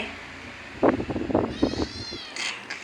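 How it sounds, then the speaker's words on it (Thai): A cat meows several times in quick succession, fairly close and loud, with faint background noise and a higher whine toward the end. "ไข่ร้อง"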